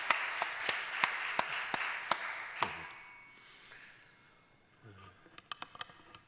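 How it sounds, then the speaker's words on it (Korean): A church congregation at a Korean prayer meeting claps in unison, a slow, even beat of sharp claps that starts out moderately loud, then fades into quiet, with a few scattered claps near the end. "먼저 우리 하나님께 감사와 영광의 박수 함께 우리가 올려드리겠습니다"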